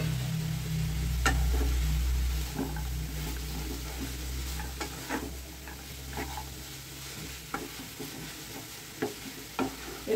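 Shelled peas tipped into a pan of radish being stirred: a thud as they land, then a low sizzle with intermittent scraping and clinks of a spoon against the pan, moderately close, no voices.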